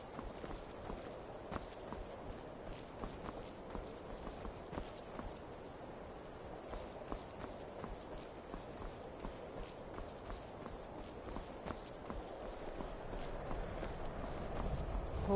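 Faint horse hooves from the video game Skyrim VR clop along at a walking pace, soft irregular steps over a low ambient bed, distant and quiet with no voices.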